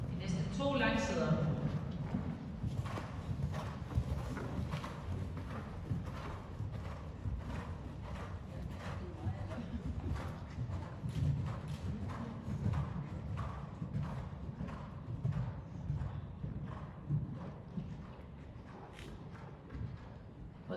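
A four-year-old horse canters in left lead during a dressage championship qualifier, its hoofbeats making a muffled, steady three-beat thudding on the arena footing while a voice talks throughout.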